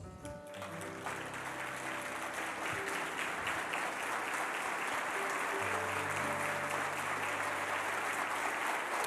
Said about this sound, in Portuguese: Coloque-se de pé e aplauda ao Senhor.